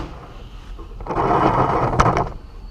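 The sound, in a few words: Mac tool box drawer being opened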